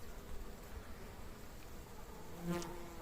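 A big, furry bumblebee buzzes steadily among blooming flowers on a warm day, its hum faint and continuous, swelling briefly louder as it passes close.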